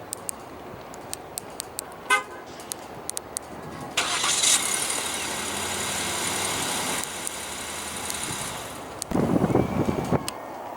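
A few faint clicks, a short chirp, then a 2015 Ford Edge's 3.5 L V6 engine remote-starts and settles into a steady idle, with a brief honk-like burst near the end.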